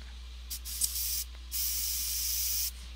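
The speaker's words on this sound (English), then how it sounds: "I'm gonna spray it" Badger airbrush spraying paint onto a half-scale sculpted bust: two steady bursts of airy hiss, a short one followed by a longer sustained spray, close and fairly loud, with quiet gaps between and no talking.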